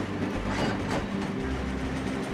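Trains in the Trainz Trouble video game roll along with a loud, continuous rumbling clatter and a low mechanical drone that holds steady from start to finish, with no voices.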